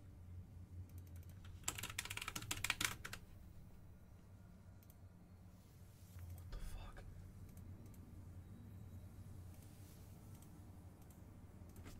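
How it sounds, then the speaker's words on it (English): Fast, frantic typing on a computer keyboard comes in a short intense burst, with a briefer flurry of keystrokes later, against a quiet background with faint murmuring. "I think that typing you heard was a product of, like, adrenaline and fear mixed together."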